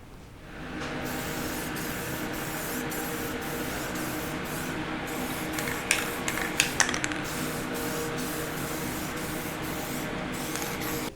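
A paint sprayer being restored is used to spray color onto its own parts, a loud, steady hiss close by that runs for about ten seconds with a few brief clicks and pauses in the spray.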